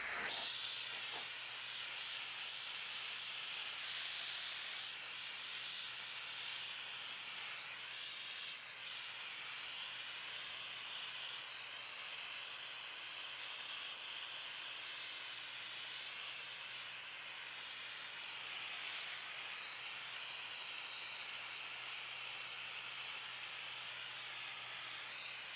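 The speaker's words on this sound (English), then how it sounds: "We're gonna rinse, and then I'm gonna post treat with a downstream mix." A steady, loud spray of water rinses a paver patio during a cleaning job. The hiss runs unbroken for the whole stretch, with no voices.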